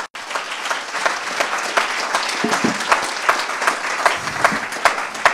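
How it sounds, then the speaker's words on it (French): An audience at an awards ceremony for online courses gives sustained applause, dense and even hand-clapping from a sizable crowd that continues steadily throughout, with no speech over it. "Bravo, on les applaudit."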